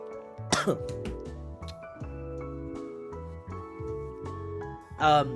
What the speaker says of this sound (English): If I keep coughing, it's because my throat had this reflex to try to spit out the phlegm